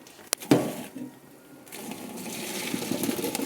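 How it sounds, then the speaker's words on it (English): Cooked pasta and its hot water are dumped into a strainer, a sudden splash followed by a steady pouring rush and draining trickle, close by and with no voices. "I am going to toss this all into my strainer"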